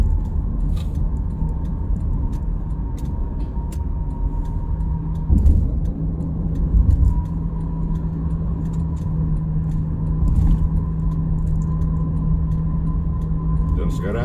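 A car merging onto the old Krapyak toll road in Semarang gives off a steady, heavy road rumble with a constant low engine drone and occasional bumps, while someone talks over it.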